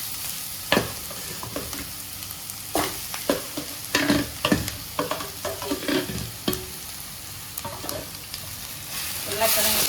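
Mashed potato is stirred and scraped around a hot frying pan for bonda filling: a soft sizzle runs throughout under repeated clattering spoon strokes, close and moderately loud.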